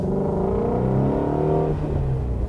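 A factory Ford Mustang engine revs hard and close, a loud, rising and falling roar with harmonic sweeps climbing and dropping over a steady rumble, no voices.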